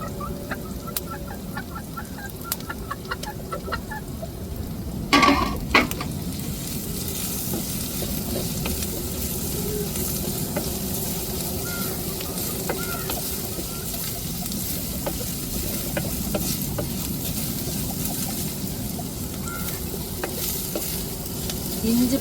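Ginger garlic paste, ground on a grinding stone, sizzles steadily in a pan while being stirred, with scraping strokes over continuous frying hiss and a brief louder clatter near the start; chicken clucks sound faintly in the background.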